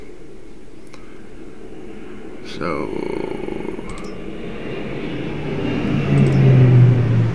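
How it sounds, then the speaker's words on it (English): In Farming Simulator 22, an airplane passes overhead as a rising, sustained engine drone that swells louder toward the end. Someone speaks briefly under steady game background noise. "airplane going over top of my head"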